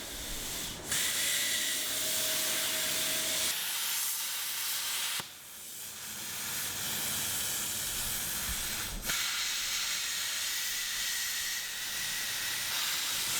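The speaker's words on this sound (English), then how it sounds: "get the CNC plasma table loaded up and cutting" A CNC plasma table cutting steel gives off a steady loud hissing roar that breaks off and restarts a few times, with brief pauses between cuts.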